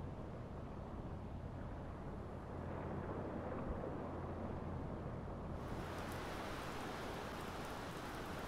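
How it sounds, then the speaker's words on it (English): Rain in the submarine game UBOAT on a dark day in the Mediterranean, a dense steady hiss of falling rain that swells slightly partway through, continuous and soft with no voices. "it's a dark and rainy, miserable day here in the Mediterranean"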